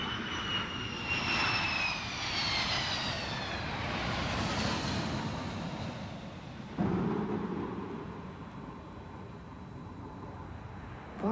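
A jet aircraft passes overhead with a loud, roaring engine whine that sweeps downward in pitch as it goes by, then fades into a lingering rumble before a brief swell at the end.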